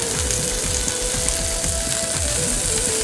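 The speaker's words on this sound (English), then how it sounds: "go back to frying the egg up" Steady broadband sizzling and crackling, like an egg frying in a hot pan, continuous and close with a faint hum underneath.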